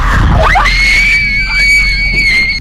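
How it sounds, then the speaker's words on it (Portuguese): Terrifying high-pitched scream ringing out in an abandoned village, a loud sustained shriek that rises sharply and holds with a wavering tone for about two seconds, alone over a low background rumble. "de repente um grito apavorante surge do nada"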